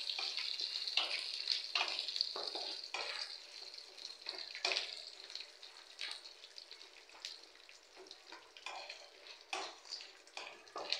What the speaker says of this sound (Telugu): శనగపప్పు, మినప్పప్పు, ఎండుమిరపకాయ, కరివేపాకు వేసేసుకుంటున్నానండి.